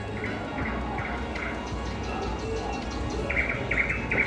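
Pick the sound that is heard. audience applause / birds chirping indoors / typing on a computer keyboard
birds chirping indoors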